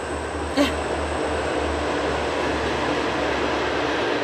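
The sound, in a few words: passing train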